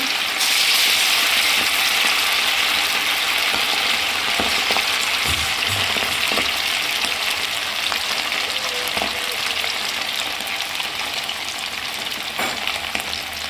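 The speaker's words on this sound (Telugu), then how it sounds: "చికెన్ పకోడాకు పెద్ద నూనె ఏం పట్టదు అనమాట ఇదిగోండి ఇక్కడ చికెన్ పకోడా అవుతుంది" Chicken pakoda frying in a pan of oil, a steady, loud, dense sizzle throughout with occasional faint clinks of a utensil, no voices.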